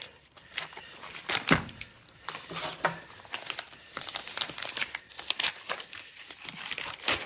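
Plastic wrapping being peeled and crinkled off a boxed electronics super starter kit during unboxing, a continuous close rustling with sharp crackles and tearing bursts and no talking.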